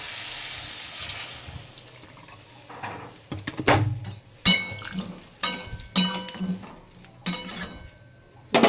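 Mini aloo dum cooks in a pan after a little water is added: close splashing and bubbling sounds mix with scraping stirs and sharp clinks of a spoon against the pan, with no talking.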